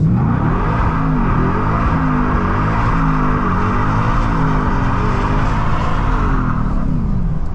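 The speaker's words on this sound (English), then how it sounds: "So we just absolutely roasted the tires there." A 700hp Ford Raptor R roars with its engine held high as the tires spin and roast on the street, a loud sustained growl with wavering pitch lasting several seconds before easing off.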